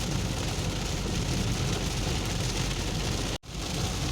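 Heavy rain drums steadily and loudly on a moving car's roof and windscreen, a dense unbroken roar that cuts out briefly near the end.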